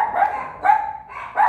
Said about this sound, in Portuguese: Para de latir aí no portão.